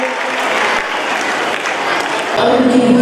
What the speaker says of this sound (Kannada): ಆ ಒಂದು ಸನ್ನಿವೇಶದ ನೃತ್ಯ ವೇದಿಕೆ ಮೇಲೆ ಜೋರಾಗಿ ಚಪ್ಪಾಳೆ ಬರಲಿ ಆ ಶ್ರವಣ ಕುಮಾರನ ಅಭಿನಯಕ್ಕೆ